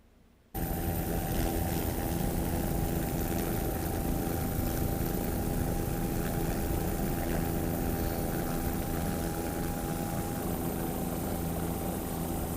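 Offshore racing powerboat engines at the 2002 Savannah Grand Prix in Georgia, a heavy, steady roar that starts abruptly after a moment of quiet and holds loud and unbroken throughout.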